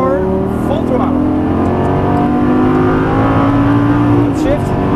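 A Lamborghini Gallardo V10 at a Las Vegas exotic car track pulls hard at full throttle, its loud, close engine note climbing steadily in pitch through the rev range while a voice talks over it.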